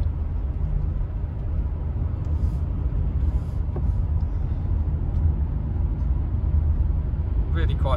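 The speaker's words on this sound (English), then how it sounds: "The VTEC kicks in and it's got plenty of go in it" A Toyota Alphard 4WD accelerates on the road, its engine holding a steady low rumble with road noise inside the cabin, while someone talks over it.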